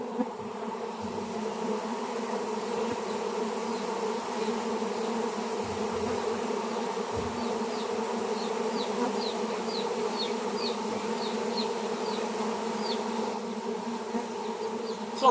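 A large honeybee swarm hums steadily as the bees crawl back into their old hive box, a dense continuous buzz close by with individual bees whining past now and then.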